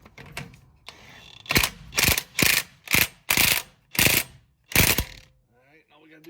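A sway bar bolt being tightened with a ratchet wrench: seven loud, close bursts of rapid pawl clicking, each about a third of a second, in a steady rhythm, then a faint scrape.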